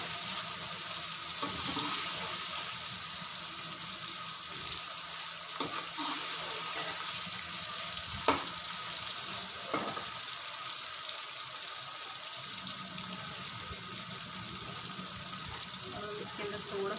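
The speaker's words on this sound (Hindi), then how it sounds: "हम इसके अंदर डाल देंगे चिकन, जो कि हमने रोका हुआ है, और अच्छे तरीके से इसको भून लेंगे" Chicken sizzles and fries in a pan for aloo chicken shorba, a steady hiss with occasional clinks of stirring and splashes of water.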